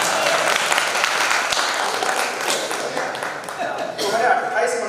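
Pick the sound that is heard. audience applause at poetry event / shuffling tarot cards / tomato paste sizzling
audience applause at poetry event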